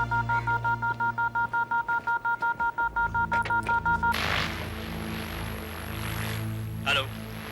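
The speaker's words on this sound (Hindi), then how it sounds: "सर वायरलेस में मैसेज है।" A wireless radio at a CID station sends a signal as a rapid train of evenly pulsed electronic beeps, loud and close. It then cuts to a steady hissing static carrier with a faint high tone above it.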